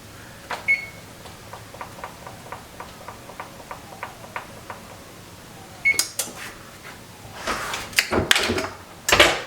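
A kitchen oven being set to preheat to 400 degrees gives a series of about ten short, evenly spaced beeps, followed by louder clatter and knocking from a door and dishes.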